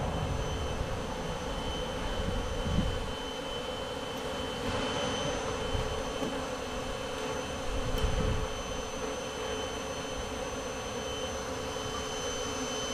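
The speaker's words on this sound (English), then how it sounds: "we're just gonna let the bees kind of run to wherever they want to" A swarm of honeybees from a hive being removed at a playground, making a dense, constant buzzing drone that sits close and steady throughout, swelling slightly in a couple of spots.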